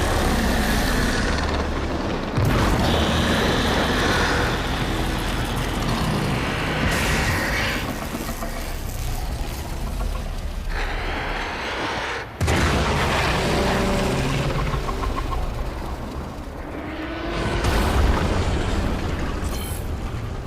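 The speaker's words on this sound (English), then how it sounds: "There should be useful detritus falling from the explosion." Loud, dense explosions and rumbling booms from the video game Warframe's Heart of Deimos quest, with sharp blasts around a few seconds in and midway, sustained roaring debris throughout, no talking.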